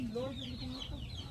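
Free-range native chickens on a farm on Olango Island cluck and murmur nearby in a steady, overlapping chatter, with short higher calls rising over the flock and no talking.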